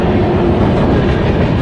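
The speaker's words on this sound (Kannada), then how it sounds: "ಅಂಚಿ ಕೇರಳ ಸೈಡ್ ಬೋಪಿನ ಟ್ರೈನ್ ಹೋಗ್ತವ್ರಿ." A passenger train runs along a long railway bridge line toward Kerala near Kasaragod, a loud, steady rumble of rolling wagons with clickety-clack from the wheels filling the whole stretch, no voices.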